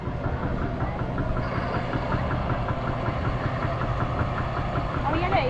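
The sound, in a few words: hands-free tractor engine running at agricultural show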